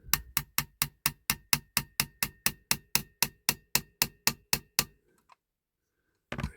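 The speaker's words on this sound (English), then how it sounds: "I've got a little toffee hammer here somewhere. There it is. Let's give it a bit of a knock." A small toffee hammer taps on a Corgi Toys diecast Ecurie Ecosse racing transporter during restoration, about twenty quick, evenly spaced knocks, close and crisp, followed by a pause and a short rustle.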